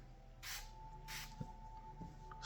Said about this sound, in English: What I want to do is spray the guide rod,